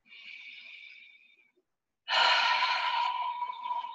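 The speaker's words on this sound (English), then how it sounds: "Take a deep breath." A deep breath taken slowly: a gentle inhale, a short pause, then a fuller, louder exhale that fades out, close and clear, during a yoga session.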